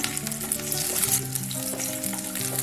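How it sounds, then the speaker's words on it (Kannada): Garlic frying in a pan for raw tomato chutney, a steady close crackling sizzle with small bursts of spatter, heard alone with no talk over it. "ಒಂದು ನಿಮಿಷ ಹುರಿದ್ರೆ ಸಾಕು ಬೆಳ್ಳುಳ್ಳಿ ಜಾಸ್ತಿ ಹೊತ್ತೇನು ಹುರಿಬೇಕಾಗಿಲ್ಲ"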